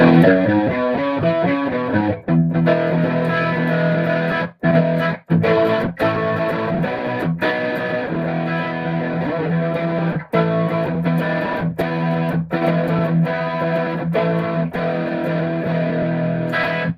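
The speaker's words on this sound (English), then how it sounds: "so that's the sound of the Tube Screamer" An electric guitar through a Tube Screamer overdrive pedal with mild grit plays a bluesy run of notes and chords, loud and sustained, with a few short breaks.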